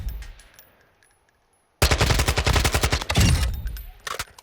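AKS-74U fired in the Modern Warfare II video game: a loud sustained automatic burst after a quiet stretch, rapid sharp reports lasting about two seconds, then a short follow-up shot near the end.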